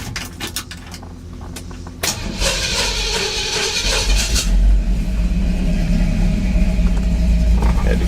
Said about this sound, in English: Had to crank a little long there